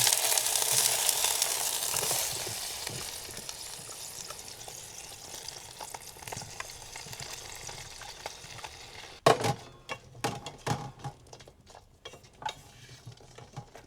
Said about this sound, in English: Now let's get our Spam out into the frying pan.